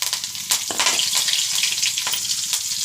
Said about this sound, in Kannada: ಇದಕ್ಕೆ ಸಾಸಿವೆ, ಜೀರಿಗೆ, ಕರಿಬೇವು, 4 ಎಸಳು ಬೆಳ್ಳುಳ್ಳಿ, ಸ್ವಲ್ಪ ಇಂಗು ಹಾಕ್ಕೊಂಡು ಈಗ ಒಗ್ಗರಣೆ ಹಾಕ್ಕೊಳ್ಳೋಣ